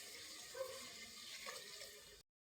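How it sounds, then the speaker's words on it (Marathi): Water pours from a small metal pot into a cooking curry, giving a steady rushing, splashing flow at low volume that stops abruptly. "1 तांब्या पाणी टाकते."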